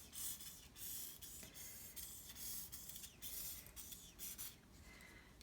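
Purple alcohol ink sprayed onto a gold sheet for glass wall art, a steady broad hiss running throughout with brief pulses and small gaps between bursts, fairly quiet and close.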